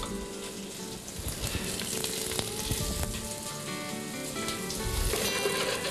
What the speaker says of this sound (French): Je vais mettre le morceau de lard avec la branche de thym à l'intérieur. Il faut que ça chauffe tout doucement.